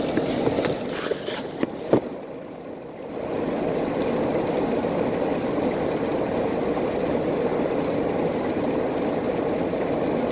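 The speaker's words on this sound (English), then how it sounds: "I'm driving 65, and this is, I believe, like an interstate road" A car cruising at 65 mph on an interstate road near San Bernardino, a steady broadband road and engine roar throughout, preceded by a few brief knocks and a short quieter dip near the start; no speech.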